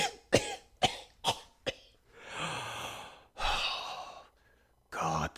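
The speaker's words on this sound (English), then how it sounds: "God, this cough." A woman coughs in a TV movie scene, her character smoking from a long cigarette holder; a series of short, harsh coughs comes first, then longer breathy sighs and rasping exhalations, close and clear.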